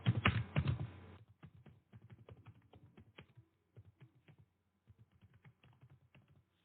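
Typing on a computer keyboard while entering an address into a Microsoft Word mail merge letter, a steady run of light, close key taps after a brief louder burst at the start.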